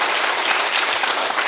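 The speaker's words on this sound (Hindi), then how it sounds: "तालियां अक्षत भाई बज चुकी हैं" Dense audience applause at a Hindi poetry recital during Kavyanjali 2025 at IIT Kharagpur, loud and even with no pauses, filling a short burst with a packed hall's clapping.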